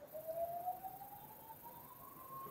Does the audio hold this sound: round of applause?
no